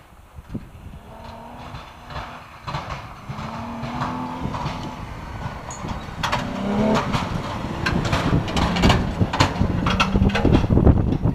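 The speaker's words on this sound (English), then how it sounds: "And here comes the last vehicle in our group." The last vehicle of a group drives through deep snow, its engine rumble and crunching rising steadily louder as it approaches.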